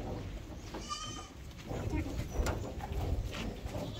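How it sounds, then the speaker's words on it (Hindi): On a goat breeding farm, a healthy goat gives one brief, wavering bleat. Farmyard background noise continues around it. "ये एक बकरी है, बहुत अच्छी हेल्दी बकरी है माशाल्लाह।"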